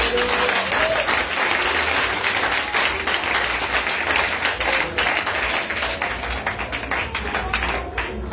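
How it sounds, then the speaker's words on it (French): A church congregation applauds loudly and steadily for over eight seconds, a dense wash of clapping with a few faint voices mixed in. "acclame ton Jésus."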